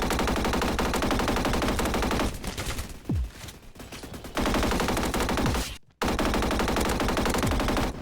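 A G36C rifle in a video game fires in rapid automatic bursts, with loud dense rattling fire broken by brief pauses and a short silence before it resumes.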